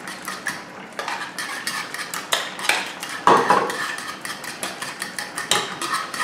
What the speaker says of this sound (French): je mélange jusqu'à ce que la gélatine soit bien diluée dans la purée